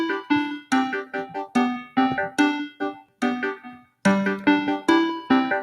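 Bright, bouncy Nintendo DS game music from Box Boy, with plucky synth notes in short choppy phrases and brief pauses, playing alone without talk.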